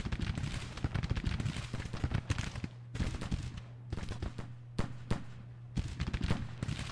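Six-pounder cannons fire in the Civil War strategy game Grand Tactician, giving a scattered series of sharp blasts and crackling volleys at uneven intervals, some bunched close together and others spaced out, with quieter gaps between.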